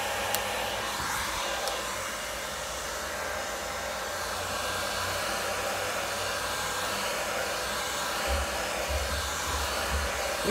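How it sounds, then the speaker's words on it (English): A hair dryer on its warm setting blows steadily throughout, a constant close whooshing hum with faint low rumbles near the end and no talking. "Make sure you blow dry your hair."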